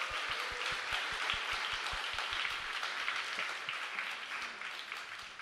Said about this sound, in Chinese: 我们再一次用个热烈掌声给我们的主日学的孩子